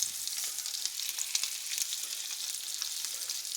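Salmon frying in a pan with garlic gives a soft, even sizzle, a steady crackling hiss with faint spatters, close up and unbroken by speech.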